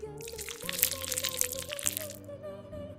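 Homemade cola fizzes with a dense crackling hiss of popping gas bubbles, loud and close for about two seconds before easing off, with steady background music underneath.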